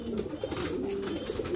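A sick pigeon coos softly up close, a low warbling murmur repeating over a faint continuous background hiss.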